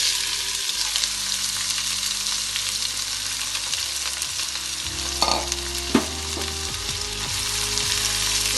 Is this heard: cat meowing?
no